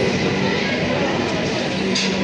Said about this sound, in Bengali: তো বন্ধুরা এই ট্রেনটা একটা নতুন ট্রেন আসলো